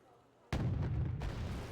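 Loud artillery blast in a vehicle combat video game, opening with a sharp boom after a quiet start and followed by a sustained rumbling roar. A second burst lands partway through.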